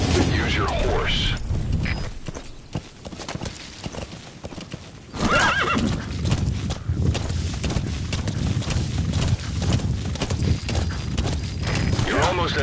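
Horse hooves clip-clop in a steady walking rhythm, with a horse whinnying and game-like ambience around them, in a PS4 video game.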